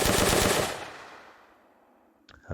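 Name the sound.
gunfire in an Unreal Engine Nazi zombies video game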